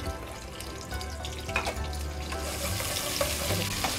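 Medium-sized onion frying in hot oil for kadhi pakora, a steady close sizzle with faint stirring scrapes and a few soft clicks throughout.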